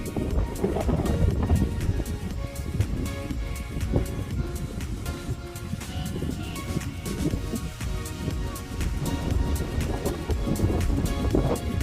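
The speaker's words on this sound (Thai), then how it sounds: "ลมแรงมากทุกคน" Strong wind gusts sweep across an open hilltop campsite, roaring and buffeting loudly and continuously, with rushing, uneven surges throughout and no talk.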